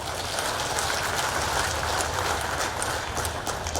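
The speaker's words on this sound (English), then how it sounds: "That calls for a big round of applause." A crowd at a Trinamool Congress political rally in Tura, Garo Hills, Meghalaya, applauding in a steady, dense wash of clapping that holds at an even level for a few seconds, with no clear voices.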